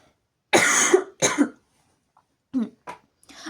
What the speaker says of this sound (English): I have to like cough again, I think.